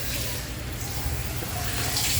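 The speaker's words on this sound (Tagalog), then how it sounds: "Ang hina naman tubig dito sa area na to." Weak water flow from a sink tap runs steadily as a soft, constant hiss and trickle, close by with no voices.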